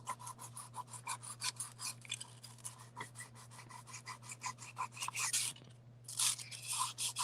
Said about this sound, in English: I'm going to use a sanding stick.